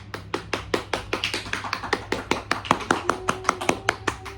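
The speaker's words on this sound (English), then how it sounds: "Can I get a clap?" A small group claps in sharp, close, rhythmic beats, roughly five per second, steady and distinct against a quiet room hum.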